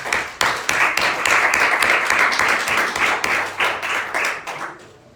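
A congregation in a church class applauding the Lord, with brisk, dense clapping that swells quickly, holds for several seconds, then thins out and fades.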